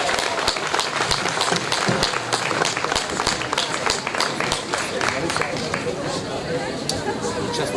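Audience applause and cheering after a Polish folk song performance by the ensemble Serenada z Czarnego, dense continuous clapping from a crowd with chatter mixed in, steady and fairly loud throughout.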